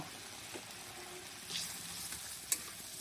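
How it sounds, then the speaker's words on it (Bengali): Chopped tomato with salt and turmeric cooks in oil in a pan for a fish curry, a soft, low sizzle with a few faint stirring sounds and one sharp tap of the utensil. "বেশ ভালো করে কষিয়ে নেব যতক্ষণ না তেল ছাড়বে"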